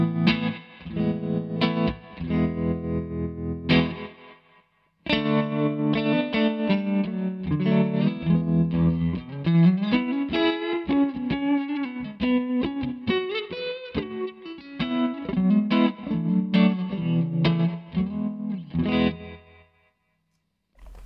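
An electric guitar runs through a Shapeshifter tremolo pedal placed after a Hall of Fame reverb, playing chords and phrases with pulsing, wavering volume and a spacious wash, loud and alone, pausing briefly near the start and dropping out at the end.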